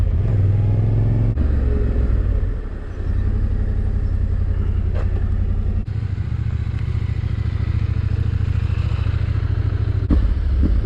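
Motorcycles on a refuelled adventure loop near Marysville and Mt Baw Baw, engines idling and revving close by in a steady, loud rumble with a brief clatter, no talk.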